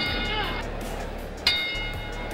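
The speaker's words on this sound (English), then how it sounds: "The bell for round 4" A boxing ring bell struck once to start a round in the George Foreman vs Jimmy Young fight, a short bright ding ringing out over the constant roar of the arena crowd.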